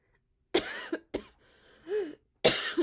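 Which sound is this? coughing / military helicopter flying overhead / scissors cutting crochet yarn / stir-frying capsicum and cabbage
coughing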